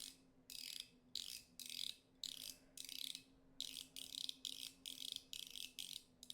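Rapid bursts of fine clicking from a fidget toy ball on a dense track repeat in a steady rhythm, each burst lasting about half a second, close and crisp over a low hum.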